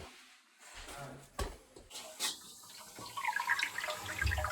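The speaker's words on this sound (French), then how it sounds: "on entend le chauffe-eau qui commence à se remplir" Cold water runs from the tap into a domestic electric water heater tank under repair, starting as a faint hiss after a few clunks and building to a louder, rushing fill near the end.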